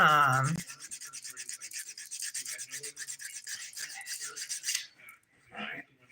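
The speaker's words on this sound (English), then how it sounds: "we'll file that away with this. Nail file, I'll use the 100 grit side" A 100-grit nail file rasps dip powder off a fingernail and the nearby skin in fast, rhythmic back-and-forth strokes, close and moderately loud, for about five seconds before a couple of lighter scrapes.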